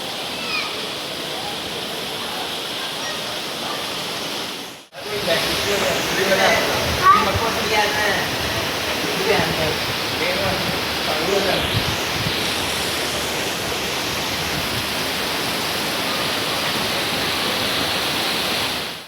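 Strong monsoon wind roars across a rooftop terrace in Nalasopara during days of nonstop rain, a dense, steady rushing noise that drops out briefly once, then surges back loud and constant.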